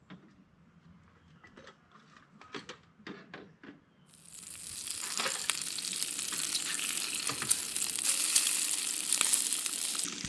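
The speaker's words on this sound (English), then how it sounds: "Just making breakfast for the boys. Doing some bacon, made some toast, do some eggs." Bacon frying for breakfast at a camp in the woods: quiet scattered clicks and taps first, then a loud, steady crackling sizzle that swells in and continues to the end.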